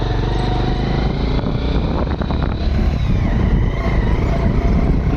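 A motorcycle engine runs continuously with a steady loud drone, accompanied by strong wind buffeting on the microphone and a brief rattling gear-change clatter midway.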